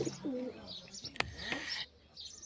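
Sirazi pigeons cooing in a loft, soft rolling coos mixed with a few short chirps, heard close by at moderate volume.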